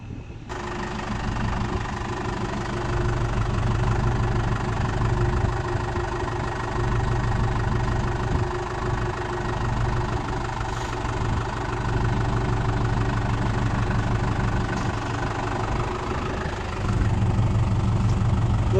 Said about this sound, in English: I'm going to use the tractor real quick to lift this building up